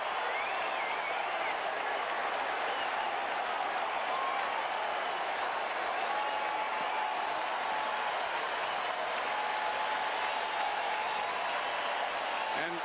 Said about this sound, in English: people are standing and applauding